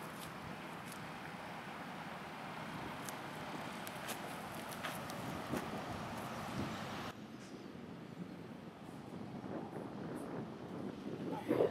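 Wind buffets the microphone outdoors on a disc golf course at a middle school, a continuous rough rushing with a few gusts and brief quieter stretches.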